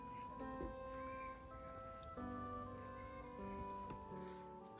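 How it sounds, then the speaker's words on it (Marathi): Steady high-pitched insect chirring from flies on mango tree leaves in a forest at dusk, continuous and fairly loud, with a few faint clicks and no voices. "आंब्यांच्या पानांवरती माशा बसायला येतात, त्यांचा आवाज येतोय."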